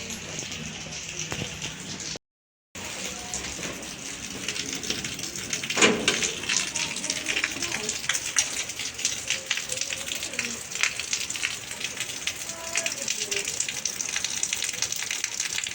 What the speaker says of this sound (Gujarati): મજાનો વરસાદ આવે છે, બતાવું તમને કેવો વરસાદ આવે છે.